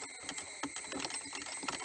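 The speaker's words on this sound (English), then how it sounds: "So you remove these three bolts." A ratchet clicks in quick irregular bursts while three bolts are undone from a Fiat Linea lower central console, close and metallic with faint rattling.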